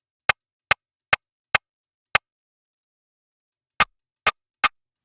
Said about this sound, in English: That's going to give it that like top end hi-hat kind of sound.